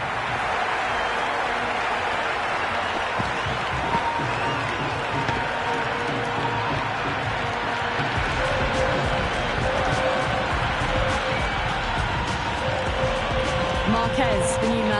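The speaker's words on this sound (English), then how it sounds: "The crowd are really getting quite raucous." Raucous stadium crowd in the Cricket 26 video game during a T20 World Cup match, a dense continuous roar and cheer filling the whole stretch at steady loudness, with commentary-like speech under it.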